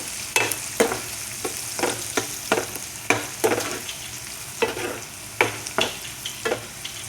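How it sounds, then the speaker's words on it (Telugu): Onions frying in oil on a low flame for cauliflower curry, stirred with repeated scraping strokes of a spoon against the pan over a steady soft sizzle, with no talking. "లో ఫ్లేమ్లో పెట్టుకొని మంచిగా వేగించుకోవాలి."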